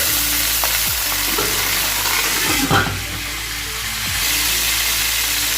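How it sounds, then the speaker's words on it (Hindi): Lightly browned onions sizzle in hot oil for a beef qorma pulao as water is poured in and stirred, giving a steady close frying hiss with soft stirring scrapes and no talking. "अब हम इसमें थोड़ा सा पानी डालेंगे।"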